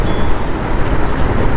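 Steady road traffic rumbles close by, a dense wash of passing cars and heavier vehicles with no clear gaps.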